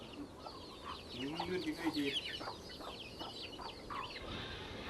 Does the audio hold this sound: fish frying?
no